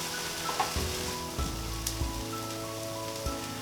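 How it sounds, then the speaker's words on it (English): Vegan pancake batter sizzles steadily in a hot frying pan, a close, even crackle with small pops and no talking. "starts cooking as soon as it hits the surface"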